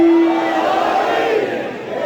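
Crowd at a Shia majlis gathering with a zakir in Farooq Colony, Sargodha, roaring a loud collective chant of the Haideri slogan, a sustained massed shout that swells and fades.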